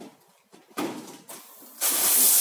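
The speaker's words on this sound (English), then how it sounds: "Add some steam, especially in the more tricky parts, it's very required." A steam iron hisses while pressing a sweatshirt on a cotton setting, with short quiet bursts followed by a louder sustained hiss of released steam close by.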